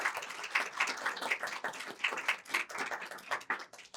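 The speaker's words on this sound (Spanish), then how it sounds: "le brindamos un aplauso, por favor" Applause from an audience at a university lecture hall event, a modest room's worth of hands clapping steadily and fairly faint for about four seconds with no talk over it.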